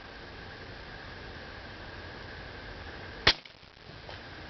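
A Taipan Mutant .22 air rifle fires a single sharp, loud crack over a steady background hiss, followed by a faint ringing tail and a soft second tick as the pellet strikes.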